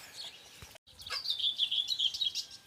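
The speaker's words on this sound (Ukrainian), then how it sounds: "гарно дуже пташечки. Співають" Small birds chirp and twitter steadily outdoors, fairly faint, with a brief cut near the start and a low background hum throughout.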